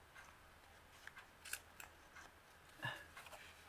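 Quiet snips of scissors trimming paper for a handmade envelope and journal cards, a few separate close cuts spaced unevenly with soft rustle between them.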